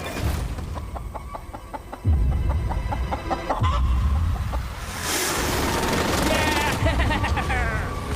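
A chicken clucks amid a busy stretch of voices and clatter on an island, with a sharp knock partway through and rustling noise later on.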